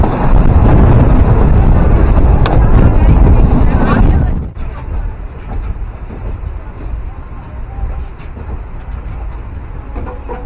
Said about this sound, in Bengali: প্ল্যাটফর্মে চলে আসছে 18013 বোকারো স্টিল এক্সপ্রেস।